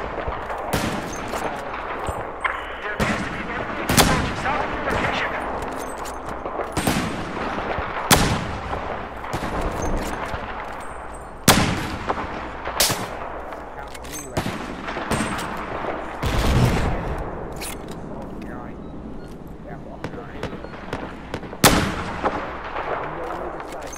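Rapid bursts of in-game gunfire and artillery-like blasts from Battlefield 4, loud sharp reports recurring irregularly across a dense, rumbling battle soundscape.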